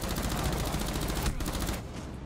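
Rapid video game gunfire rattles in a steady, loud automatic stream, each shot clearly separated, then cuts off near the end with a short quieter tail.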